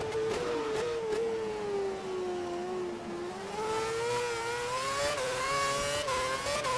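A Formula 1 race car in F1 2011 comes up from behind, its high engine whine rising and shifting in pitch through gear changes, loud and continuous over the steady hum of the player's own car.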